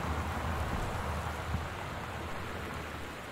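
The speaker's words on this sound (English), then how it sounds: "1 a.m. and it's raining outside." Steady rain falls outside at night in the video game Gone Home, a soft, even hiss of drops with a low rumbling undertone, constant and unbroken.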